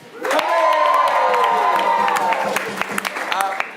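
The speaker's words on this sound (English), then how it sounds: "I want everyone to applaud again." A live-show audience bursts into loud, sustained applause mixed with cheering and whoops, swelling quickly and holding steady before thinning toward the end.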